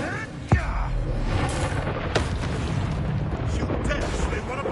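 A fiery spell blast from the Hogwarts game, a sudden booming burst with a whooshing, crackling rush of fire over dense game effects and battle noise that stay loud throughout.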